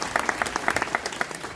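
An audience at a municipal council gathering for the town's new president and councillors claps heartily, with distinct, rapid hand claps forming a lively burst of applause.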